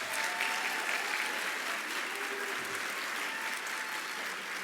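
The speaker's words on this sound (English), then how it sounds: "Let's give a round of applause for our teachers," An audience at an awards event applauds teachers, a steady dense clapping from many hands that holds at an even, moderately distant level throughout.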